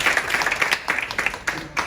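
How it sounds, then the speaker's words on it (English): An audience at a library event with a visiting author claps in response to a call, a dense burst of hand claps with uneven peaks that rises and falls several times over a couple of seconds. "You can hear my voice clap once."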